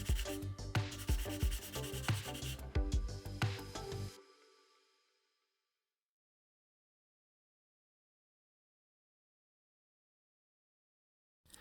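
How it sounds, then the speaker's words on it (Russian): Emery file sanding the air intakes of a 1:144 scale Airbus A350-1000 model airplane, a close dry rhythmic rubbing of repeated strokes for about four seconds, then silence. "шлифую воздухозаборники наждачной пилочкой"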